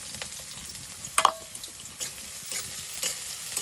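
Onion and chilli fry in hot oil while being stirred, a continuous close sizzle broken by a few sharp scraping strokes from the spoon.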